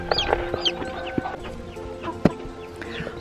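Chickens cluck close by as a mother hen is placed among her chicks, with soft repeated clucks and higher peeping calls overlapping against a light farmyard background, and no talking.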